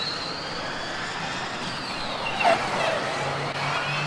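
A Formula Student race car runs on an autocross track, a sustained engine drone with changing pitch that could point to a fault, heard at a distance under a broad background wash.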